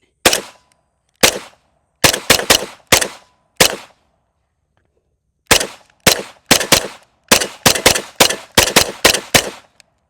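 Kel-Tec Sub2000 5.7 Gen 3 rifle firing outdoors, loud sharp single shots in irregular strings, some quick doubles and triples, separated by silent pauses.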